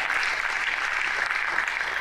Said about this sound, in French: Applaudissez très fort pour lui, s'il vous plaît.